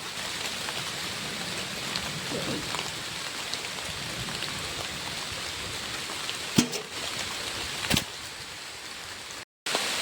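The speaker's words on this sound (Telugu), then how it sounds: "ఇంకా 2 గంటల నుంచి అయితే వర్షం చాలా అంటే చాలా ఎక్కువగా పడుతుంది" Heavy rain, driven by wind, pours down outdoors among cashew apple trees as a dense, steady hiss at moderate level, broken by a couple of sharp knocks and a brief dropout near the end.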